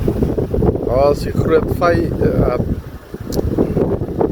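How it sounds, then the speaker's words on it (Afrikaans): Wind buffets the microphone beside the bridge at the Great Fish River mouth, a steady loud rumble running under someone speaking. "En soos julle kan hoor, waai die wind alweer."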